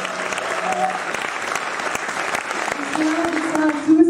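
Audience applauds a singer at an awards ceremony, a dense sustained clatter of many hands filling the hall, with a voice starting to speak over it near the end.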